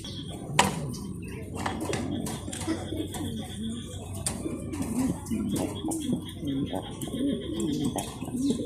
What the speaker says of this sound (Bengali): দেখতে পাচ্ছেন একদম টপ করে কত সুন্দর কবুতর